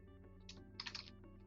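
Quiet, quick keystrokes on a computer keyboard while a phone number is entered into an online form, a short burst of clustered clicks over a steady background hum.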